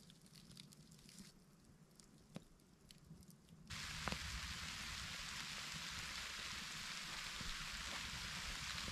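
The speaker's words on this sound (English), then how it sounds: "it did start sprinkling again" Light rain sprinkling on and around a rooftop tent on a Subaru at a campsite, soft patter that swells suddenly into a steady, close hiss of drops.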